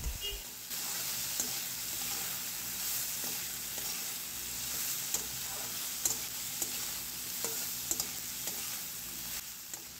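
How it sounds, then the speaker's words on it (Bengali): Ginger-chilli paste with salt fries in a pan with a constant soft sizzle and hiss, while occasional light scrapes and taps of a stirring spoon against the pan cut through. "এবার ভেজে নিতে হবে যাতে আদার কাঁচা গন্ধ চলে যায়।"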